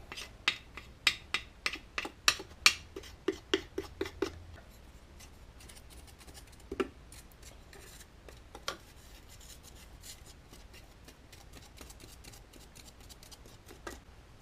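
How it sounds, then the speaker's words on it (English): A metal spoon raking and scraping inside a clogged bathroom sink drain, giving a quick run of sharp, rhythmic scrapes that thin out into a few scattered clicks and scratches, close up with no talking. "And then I brought a spoon. I'll just rake it down there."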